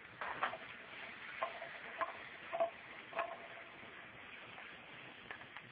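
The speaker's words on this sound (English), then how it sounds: "I'm going to start sautéing these mushrooms." Mushrooms sautéing in butter in a pan over medium-high heat, a faint steady sizzle with occasional light taps and stirring clicks, close and quiet.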